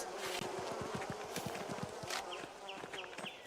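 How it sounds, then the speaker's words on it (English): Farm beehives in the game Pentiment hum with buzzing bees kept for honey and wax. A dense, continuous drone is joined by soft plodding steps or thuds, and a few short chirps come near the end. "Bees! Johan's family keeps beehives for the honey and wax."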